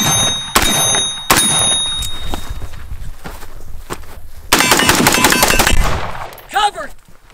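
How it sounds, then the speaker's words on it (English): Rapid bursts of gunfire from a target-shooting session with a homemade zombie-themed weapon, sharp cracks and a long automatic volley, loud and close, with footsteps and a shouted voice among them. "They're shooting back, so cover."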